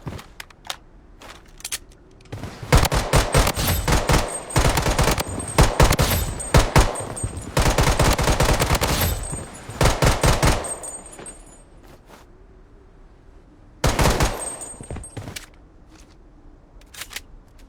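Rapid machine gun bursts from a shooting video game rattle in several long strings, broken by short pauses and a final brief burst, loud and close with faint background hum and no speech.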